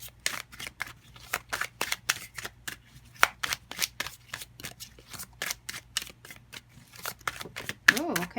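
A deck of tarot cards is shuffled by hand in quick, rhythmic bursts of crisp riffling slaps, repeating steadily and close up, with a brief voice at the very end.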